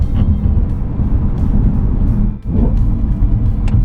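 BMW E90 M3 engine rumbling steadily while driving on back roads, a loud, continuous low drone with a short dip in level partway through, heard from inside the car with no talking.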